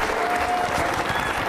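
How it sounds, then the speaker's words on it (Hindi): A crowd claps steadily and densely at an Independence Day event, a continuous wash of applause with no pauses. "तालियां जोरों से बजाइए आपके सम्मान में"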